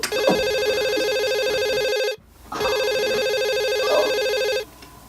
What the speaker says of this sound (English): The phone's going.